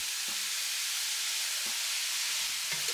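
Broccoli tossed into a hot pan of vegetable fried rice with sesame oil, giving a steady close sizzle with a few faint stirring clicks.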